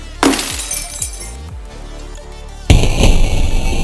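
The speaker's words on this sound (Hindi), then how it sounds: "इसमें का स्पार्क निकलना बंद हो गया है और ग्लास पूरा बिखर चुका है" A plasma bulb's glass struck hard: a sharp crack, a few descending ringing pings and bounces, then a loud burst of shattering and scattering glass that rattles on for the final second.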